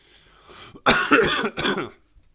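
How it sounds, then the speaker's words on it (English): A dry cough, a short burst of two or three harsh hacks close up, with quiet breathing before and after. "I've got a dry cough. It's going to come and go."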